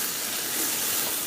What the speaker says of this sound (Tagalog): Ginigisa ko lang to hanggang sa mag-umpisa ng mag-brown yung bawang.